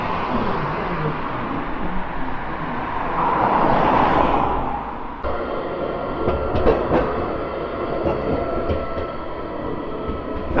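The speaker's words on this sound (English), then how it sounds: "And another tram back on its way to Nottingham via Beeston Central or Beeston Interchange." A tram passing near the Cator Lane stop in Chilwell, Nottinghamshire, on its way to Nottingham: a steady rolling rumble that swells as it goes by, then continues with light rail clatter, with no talk.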